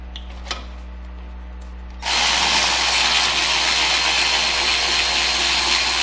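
A power tool loosens a disc brake caliper bolt, a quiet shop with a small clink before the tool kicks in abruptly at about two seconds and whirs loudly and steadily to the end, close up.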